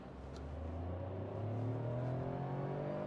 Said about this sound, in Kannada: ಸ್ವಲ್ಪ ರೆವ್ ಮಾಡಿದ್ರೆ ಇಂಜಿನ್ ಸೌಂಡ್ ಸಿಕ್ಕಾಪಟ್ಟೆ ಕೇಳಿಸುತ್ತೆ